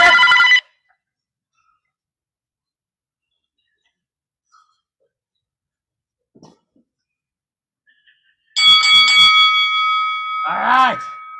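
Bell dinging as a round timer signal at a virtual fight practice: a short ring at the start, near silence, then a longer bright ringing burst near the end followed by a brief voice.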